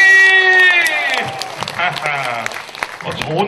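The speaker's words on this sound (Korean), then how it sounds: "다시 한번 우리 모두를 환영하는 환호와 박수 부탁드립니다." Cheering and applause from a village audience at a small outdoor community concert in Ulsan, a loud wash of clapping and shouts with a host's voice and music tones over it.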